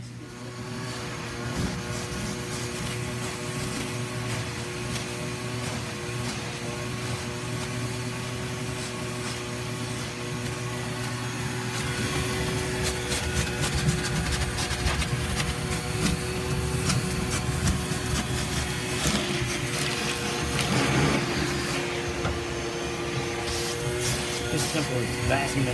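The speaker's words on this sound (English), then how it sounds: "So it's vacuuming all that, getting all that out from underneath the seat and behind it." A vacuum cleaner hums continuously while cleaning out debris from under and behind the seat of a 1957 Dodge D-100 truck, a steady loud drone that intensifies midway, with voices talking over it.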